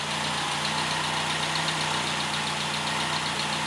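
A Triumph Herald 13/60 engine idling after its SU HS2 carburettors were refreshed, a loud, close, steady low rumble with a constant buzzing hum and no voices.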